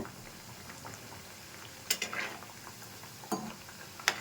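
Crispy biscuits fry gently in a pan over low heat, giving a faint, soft bubbling with a few sharp crackles and pops scattered through it.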